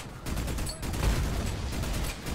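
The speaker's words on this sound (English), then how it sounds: "I'll just keep blind firing then." Rapid gunfire from a third-person shooter video game, Army of Two: The Devil's Cartel, a dense continuous fusillade of shots with a heavy low rumble, loud throughout and no talking.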